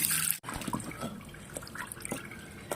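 Soaked dried fish being rubbed by hand in a bowl of water for an onion dried-fish curry, giving close, continuous wet sloshing and squelching with small splashes and drips, no talking.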